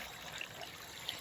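Water pours steadily into a container, a soft continuous trickling rush with no voices.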